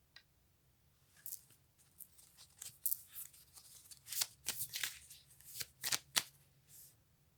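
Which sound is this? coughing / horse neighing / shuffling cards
shuffling cards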